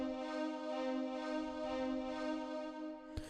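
Held cello chord from a fuller string section in a moombahton EDM remix, sustaining steadily with slow swells before fading out and ending with a brief click.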